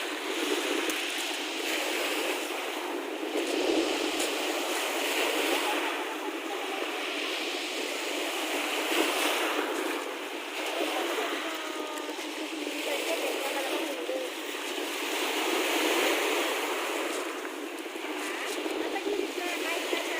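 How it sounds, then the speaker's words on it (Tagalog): Rough typhoon waves break along the dolomite beach on Manila Bay, giving a continuous broad roar of surf and wash that swells and eases over the whole stretch, fairly close, with no voices. "At ayan galit na galit yung alon mga kababayan."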